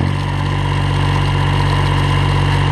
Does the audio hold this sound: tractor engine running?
yes